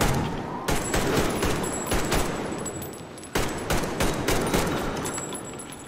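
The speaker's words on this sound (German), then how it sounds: "Ich bin dem Schuss ausgewichen." Gunfire in the video game Metro Exodus: a series of sharp, loud shots in bursts, some spaced and some close together, with reverberant tails between them and no speech.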